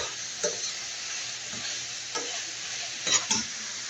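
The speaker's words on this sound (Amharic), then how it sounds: "ሽንኩርቱን በዚህ መልኩ እያበሰልኩ ነው።" Onions cooking in a pan, with a steady close sizzle broken by a few scraping stirs of a spoon, the stirring growing busier near the end.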